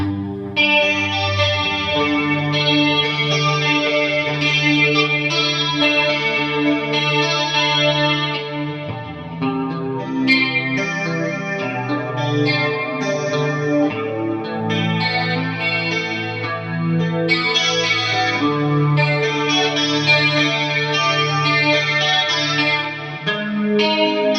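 An 80s-style clean electric guitar tone built in AmpliTube 5 with chorus, delay and reverb, shimmering sustained chords and melodic picking played continuously, loud and close, with echoing tails and no talking.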